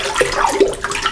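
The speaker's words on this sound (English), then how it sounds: "So obviously there's a lot of movement in the water." Water churned hard in a figure-of-eight motion while mixing wallpaper paste, giving a steady close sloshing and swirling wash with small splashy surges.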